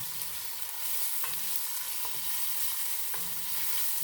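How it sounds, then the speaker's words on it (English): A spoon stirs homemade sauce with meatballs and sausage in a pot, giving soft repeated scraping and stirring strokes over a faint steady sizzle. "just giving that a little bit of a stir"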